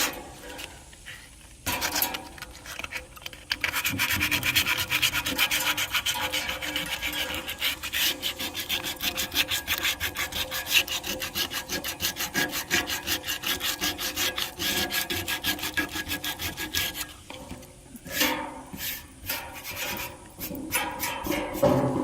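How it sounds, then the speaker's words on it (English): Sanding old paint off a metal satellite dish, a steady, close abrasive scraping rasp that runs for most of the stretch with brief pauses. "I'm gonna have to actually sand it all off."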